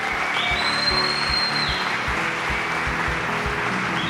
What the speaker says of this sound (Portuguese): Aplauda o Senhor Jesus.